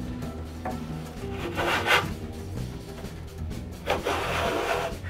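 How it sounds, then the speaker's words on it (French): Hand plane shaving along the top edges of walnut boards in a woodworking shop, with two or three longer rasping strokes over a steady low background. "je rabote le haut des planches de noyer pour que les 4 côtés soient égaux"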